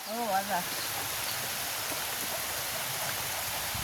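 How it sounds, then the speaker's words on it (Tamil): Rain falling steadily outdoors during an evening outdoor cooking session, a dense even hiss that continues throughout after a brief voice at the start. "மழையும் இப்போ பெய்ய தொடங்கிட்டு"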